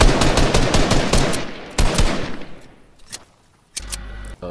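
Rapid gunfire from a Fortnite match rattles in dense bursts for about two seconds, then trails off into scattered shots and quieter game noise, ending with a short loud burst.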